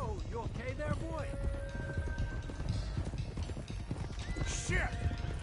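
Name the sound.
horse hooves and whinny, from video game Red Dead Redemption II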